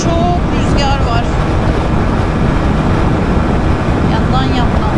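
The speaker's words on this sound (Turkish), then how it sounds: "Ama çok rüzgar var." Strong wind roars and buffets steadily throughout on a motorcycle ride on Thassos, Greece, a constant broadband rush with a voice speaking faintly beneath it.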